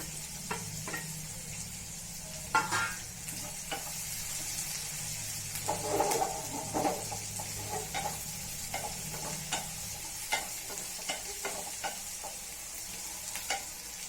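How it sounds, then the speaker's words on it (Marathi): Two green chillies, slit lengthwise, sauté in a pan. A steady soft sizzle continues while a spatula scrapes and taps now and then, with no talking. "छान परतून घेऊया"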